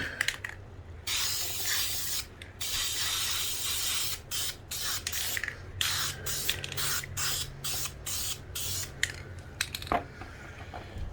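Spray paint hisses onto Centurion Arms rail covers in a series of close, loud bursts, some long and some short, broken by brief pauses between passes.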